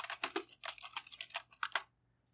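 Quick keystrokes on a computer keyboard, a close, crisp burst of irregular clicks lasting about two seconds before falling silent.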